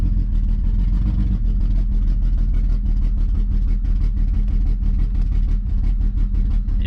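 A turbocharged BMW 335i idles roughly with a steady low rumble and faint uneven stumbles from a misfiring coil, holding close and loud throughout with no talk.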